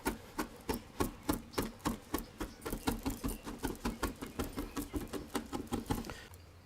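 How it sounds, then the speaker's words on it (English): A knife chops rosemary leaves finely on a cutting board, about two dozen crisp, evenly paced taps close by, with no talk. "And then we're going to chop this up finely also."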